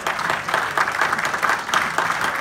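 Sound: round of applause for game winners

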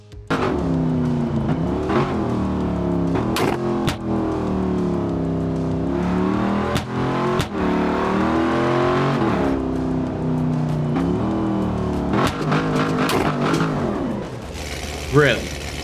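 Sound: modified Dodge Hellcat engine car driving in BeamNG Drive video game

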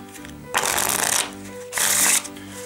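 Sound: shuffling Blades Gold Edition playing cards

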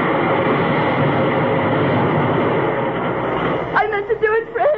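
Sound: train leaving station, radio drama sound effect

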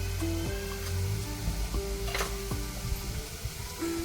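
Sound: curry leaves, asafoetida and turmeric sizzling in hot oil

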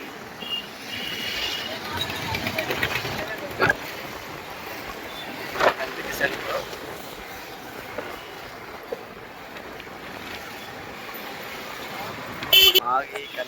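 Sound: heavy road traffic with honking at a town centre

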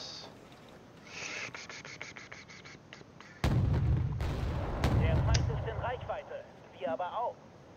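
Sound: mortar fire in a video game

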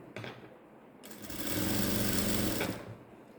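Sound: sewing machine stitching a ladies' straight pant

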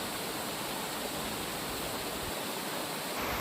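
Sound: waterfall flowing on mountain stream

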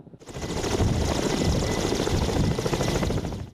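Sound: Ka-226 helicopter flying

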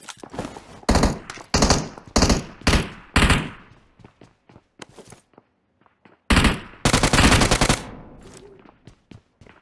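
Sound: gunfire in a video game

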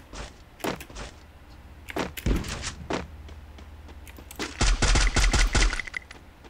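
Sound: gunfire from a new weapon in Free Fire video game

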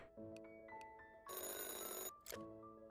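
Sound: telephone ringing in Chocolate Factory Simulator video game

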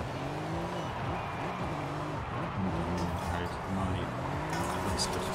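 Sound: Mercedes E63S Brabus 800 car engine in video game Forza Horizon 5

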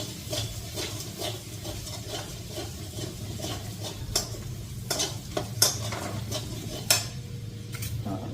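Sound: spices frying and stirred in pan

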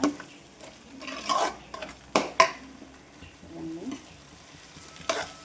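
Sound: spice masala frying in a pan

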